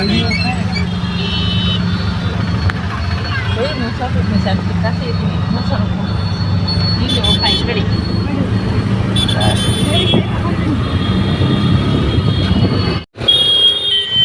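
A train rumbles past at close range with rattling cars and high wheel squeals, loud and continuous, while people talk over it near Vijayapura during the Shivagiri fair.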